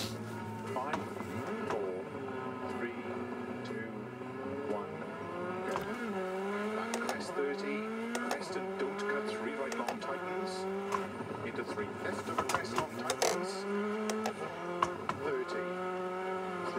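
Rally car engine in DiRT Rally 2.0 revving and shifting continuously, with the pitch climbing and falling through gear changes. Loud and steady throughout, with a voice talking over it.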